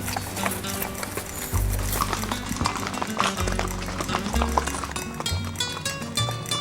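Steady clip-clop of horse hooves plodding along a rainforest trail in Costa Rica, close by and continuous, with ambient background sound and no talking.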